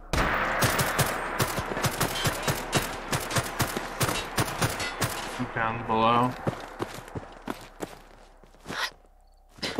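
A night raid on Corvega in a video game set in Boston 2287 brings rapid gunfire: sharp, loud shots in quick irregular bursts, some single and spaced, with a brief voice and a whirring effect partway through.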